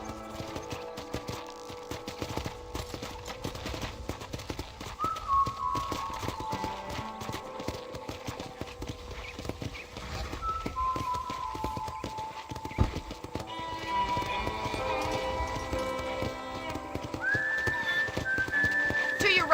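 Steady clip-clop of horse hooves at a walking pace in Red Dead Redemption, mixed under ambient game music with a whistling melody, moderately loud throughout.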